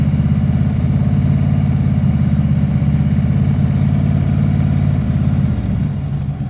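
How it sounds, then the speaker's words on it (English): A motorcycle engine runs at a steady, loud, close rumble as the throttle is brought up, easing off slightly near the end, with no talking. "I'm going to bring the throttle up."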